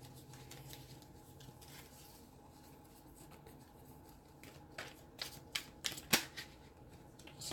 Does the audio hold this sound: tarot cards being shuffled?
yes